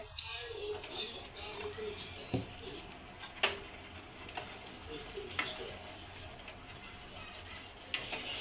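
Ragda, a thick spiced pea curry, simmers in a pot after a little water is added, giving a soft bubbling hiss broken by scattered clicks and taps of stirring, fairly quiet and close.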